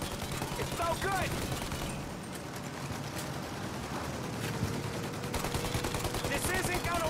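Gunfire aimed at the engines of a plane in the crime action game Mafia Definitive Edition, a dense, sustained barrage of rapid shots mixed with loud battle noise and engine roar, with shouted voices through parts of it.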